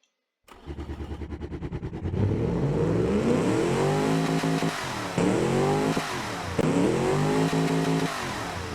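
An engine cranks, fires up, and a loud 832-horsepower classic dragster motor in a video game revs hard several times, pitch rising and falling, close and very loud.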